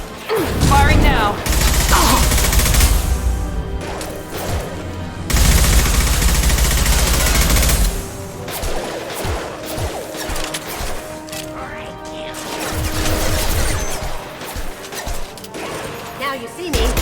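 Video game gunfire in Mass Effect combat, loud bursts and crashing impacts in the first half, then quieter mechanical clanks and scattered shots, with character voices at times.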